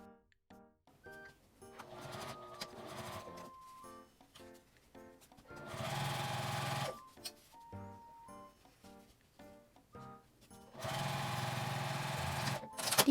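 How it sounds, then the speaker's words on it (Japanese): A sewing machine runs two steady bursts of edge stitching along a small fabric box pouch with a 12 cm zipper, each lasting about two seconds, separated by quieter handling sounds and what seems like light background music. "横に引いて端ミシンをかけます"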